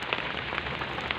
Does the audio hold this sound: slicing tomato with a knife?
no